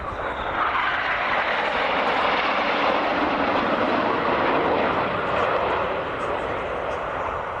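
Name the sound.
Patrouille Suisse jet aircraft formation flyby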